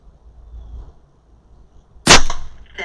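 A single loud, sharp report from an Edgun Leshiy 2 air rifle firing, cracking suddenly after a quiet stretch and ringing off briefly.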